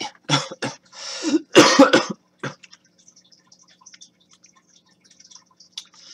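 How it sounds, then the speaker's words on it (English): Several loud, close coughs from a person in the first two seconds, followed by quieter clicks and faint mouth noises in a near-silent room. "Because I'm still kind of getting a cough."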